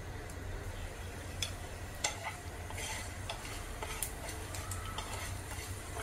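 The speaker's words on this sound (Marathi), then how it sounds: "थोडंसं तेल टाकायचं आणि चांगलं भाजून घ्यायचं आहे." Whole spices roast in a little oil in a pan, with a quiet, even sizzle under irregular light clicks and taps of stirring, faint and close.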